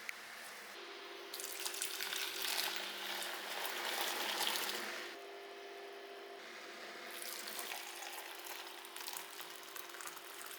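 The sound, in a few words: tea boiling in a pot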